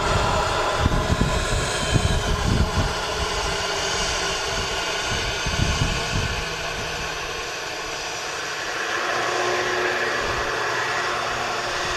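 A Jet2 Airbus A330 arriving at Manchester Airport, a steady broadband jet engine roar with low rumbling bursts early on, holding at a constant level throughout with no voices.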